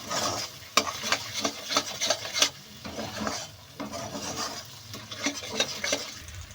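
A vegetarian restaurant-style curry enriched with whisked yogurt is stirred in a pan, a spoon scraping and knocking in steady repeated strokes over a soft background sizzle, close and clear with no talking.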